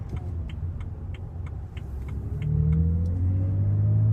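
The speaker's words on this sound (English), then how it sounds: "I'll do one more, just normal kind of acceleration, nothing mad, nothing crazy." A BMW E90 with a manual gearbox pulls away under ordinary acceleration, its steady engine drone climbing in pitch through the gears, then swelling louder with a rising note in the second half.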